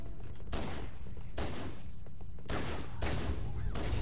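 Gunfire in the video game Halo, loud sharp shots at uneven intervals, each with a decaying tail, over a steady low game background.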